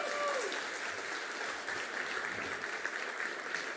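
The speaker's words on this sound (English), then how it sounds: "Let's applause to this performance." Conference attendees clap after a Java 17 technical talk, a modest, fairly quiet applause that stays steady for a few seconds in a small hall.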